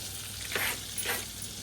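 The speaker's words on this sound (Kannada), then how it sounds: "ಕೆಳಗಡೆ ನೋಡಿ ಗೈಸ್, ಬೆಣ್ಣೆ ಹಿಂಗೆ ಹೋಗ್ತೈತೆ" Butter melting and sizzling in a pan while Karela saaru is cooked, a soft continuous crackle with two brief louder bursts of frying, close and unaccompanied by speech.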